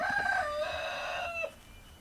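A young village rooster crows once in a drawn-out, slightly cracked call at farm paddy-harvest time, clear and fairly close, trailing off abruptly before quiet.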